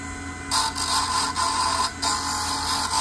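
A freshly cut duplicate key being deburred on a key machine, heard as a steady high-pitched whirring grind that runs nearly continuously with a few brief dips, close and fairly loud.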